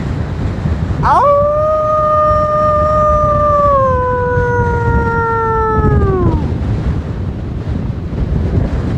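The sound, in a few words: person imitating a lone wolf howl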